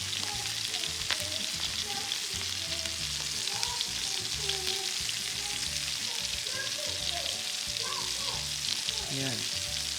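New York strip steak sears in a hot pan, giving a steady dense sizzle and crackle of frying fat with occasional stirring and clinks, close and continuous throughout.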